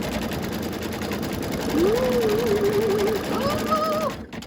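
An embroidery machine stitches a snowman quilt block with a steady, rapid mechanical whirr, close by, as a faint higher tone rises and wavers over it before the sound cuts off abruptly.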